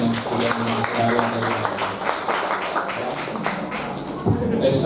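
An audience at an organisational training session applauds a speaker named Satrio, giving a dense, continuous patter of clapping with a voice talking over it and a low hum underneath.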